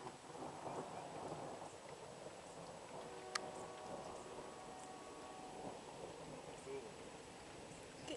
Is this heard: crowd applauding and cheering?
no